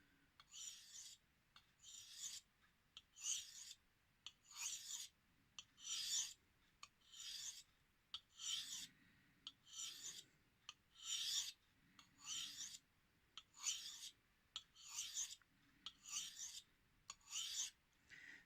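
A Kai DM0700 damascus knife drawn across a Shapton whetstone at about 20 degrees, giving a steady run of rhythmic rasping strokes, roughly one every second, close and fairly quiet with no talk.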